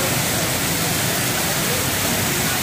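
Floodwater rushes along a road during heavy rain in a Hyderabad flood, a dense, loud, continuous broadband roar with no breaks.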